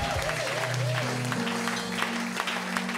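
Congregation applauding inside a church during a worship service, steady clapping filling the room alongside a sustained organ or keyboard tone.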